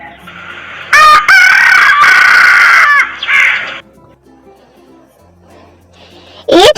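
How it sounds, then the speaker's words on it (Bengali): A rooster crows loudly and close, one long harsh cock-a-doodle-doo in the first half, a pause of quiet, then the start of another crow at the end. "মোরগকে ইংরেজিতে বলে রুস্টার। রুস্টার মানে মোরগ।"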